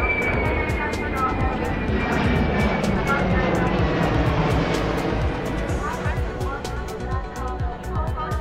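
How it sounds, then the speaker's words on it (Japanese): A Japan Air Self-Defense Force C-2 transport aircraft flies over during an international fleet review, a loud, sustained roar with a shifting whine, under continuous announcer talk. "続いては初参加となります航空自衛隊 C-2 輸送機です。"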